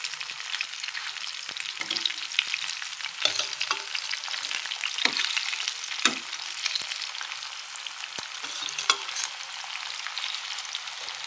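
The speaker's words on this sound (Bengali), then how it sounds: "এই যে দেখো, কি এত তেল ছিটকে পড়ে যে গ্যাস পুরো নোংরা হয়ে যায়" Hot oil spattering and crackling in a frying pan on a gas stove, a dense close sizzle with frequent sharp pops throughout, no voices.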